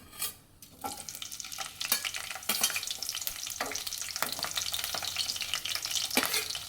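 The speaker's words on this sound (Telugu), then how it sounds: "పచ్చిమిర్చి ఇంకా చిటుకుమంటుంది" Green chilies crackle and fry in hot oil for a chicken curry, a steady close sizzle with popping bursts and the occasional scrape of a stirring spoon, with no voices.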